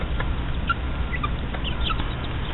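Hens and a rooster in a backyard coop cluck in short, scattered calls over a steady low background, fairly close and with no voices.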